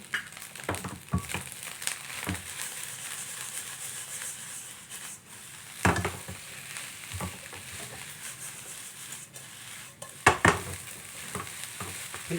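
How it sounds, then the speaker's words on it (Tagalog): Egg frying into fried rice in a pan: a steady close sizzle runs throughout, broken by scraping stir strokes and occasional sharper clatters of the spatula against the pan. "Lagyan na natin yung ating itlog para magda-dry siya."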